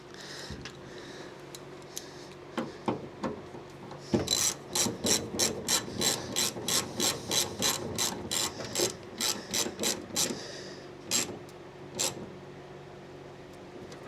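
Ratchet wrench tightening a nut and star washer on an old Meyer snow plow mount for a 1980 Dodge W150, starting with scattered clicks, then a quick regular run of sharp ratcheting clicks, then a few last turns.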